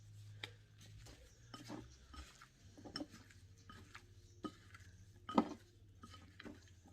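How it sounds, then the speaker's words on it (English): Sausage, shrimp and potatoes tossed with seasoning in a bowl by a gloved hand, giving soft scattered clinks and scrapes against the dish, with one sharper knock near the end, close and fairly quiet. "We're going to give it a good mix"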